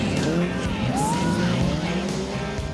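Stock car racing at a Grand Prix meet in Widensolen: several engines roar at once, loud and continuous, with whining pitch sweeps and tire skids over a dusty track.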